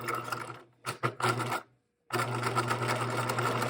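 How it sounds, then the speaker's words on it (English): Sewing machine stitching fabric pieces together for shorts, loud and close: short bursts of rapid mechanical whirring, a brief silent stop, then a long steady run of stitching. "then stitch it. Start at the very edge of your fabric. Be sure to backstitch."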